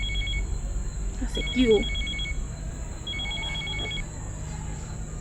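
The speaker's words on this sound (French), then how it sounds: "Et tant que ton portable sonne" A mobile phone rings at home with two short bursts of a trilling electronic ringtone, moderately faint over a steady background hum, while a person speaks briefly between the rings.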